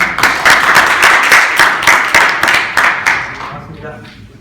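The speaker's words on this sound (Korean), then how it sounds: "모두 박수로 맞이해 주시기 바랍니다" An audience at a 2015 Microsoft Docker and container technology talk claps to welcome two presenters, a loud run of dense, rhythmic claps that thins and fades out toward the end.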